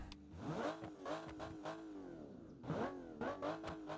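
A car engine in a video game revs repeatedly in short bursts, pitch sweeping up and down, a smooth inline-six tone with no talking.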